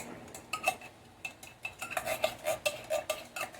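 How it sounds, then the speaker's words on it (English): A spoon stirs hot cheddar cheese soup in a pot on a turned-down stove, scraping and clinking against the metal in a quick, irregular rhythm that grows busier toward the end, with no talk. "Stir it up real good and let it melt."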